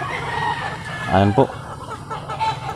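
Gamecock roosters, a Tornado Hats line from Mount Banahaw, crow once in a loud, close burst with some clucking around it, while someone talks over the steady background of the yard.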